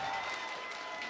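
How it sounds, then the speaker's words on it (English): Applause and cheering from a hyped crowd at a Tekken World Tour 2022 tournament top 8, a brief, dense, steady burst of clapping with crowd noise. "But the crowd is getting hyped."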